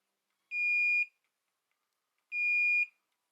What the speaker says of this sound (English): we've got beep